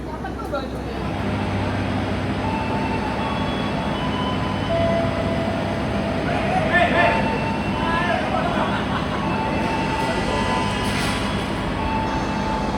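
Economy-class passenger train pulling out of Kutoarjo station, a steady rumble and rolling hum of the carriages from inside, with people talking over the continuous rail noise.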